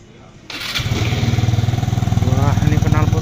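A Kymco VJR motor scooter engine starts up and runs close by, settling into a loud, steady buzzing idle with a rising rev toward the end.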